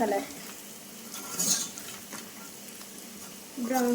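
Spicy Telangana-style chicken fry stirred in a pan, a faint sizzle under a few scrapes and clinks of a spoon against metal, quiet and close, with a brief voice at the edges.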